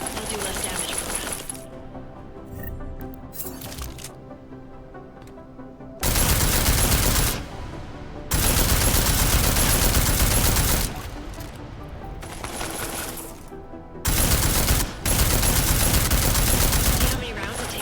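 Bursts of gunfire against an armored target in Deus Ex: Mankind Divided, loud sustained volleys separated by quieter gaps, with a few sharp metallic clinks.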